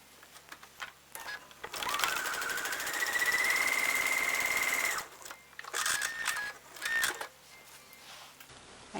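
A sewing machine stitches a quilt seam in a steady, even whir for about three seconds, then runs in a few shorter bursts with pauses between them, close and fairly quiet.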